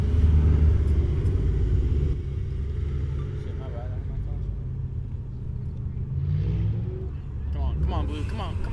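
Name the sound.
street racing cars driving slowly by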